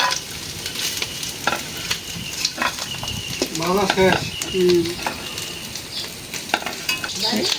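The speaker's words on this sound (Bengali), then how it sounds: "এই মাছটা একটু বড় তো, আর একটু বেশি করে ভাজলাম।" A fairly large fish fries in a pan with a loud, steady sizzle and occasional stirring scrapes, while a voice speaks briefly over the cooking and faint distant sounds drift in.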